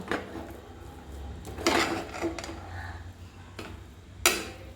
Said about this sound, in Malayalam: ഈ ചോറിനെ നമ്മൾ നന്നായിട്ട് ഇളക്കി അങ്ങ് എടുക്കണം.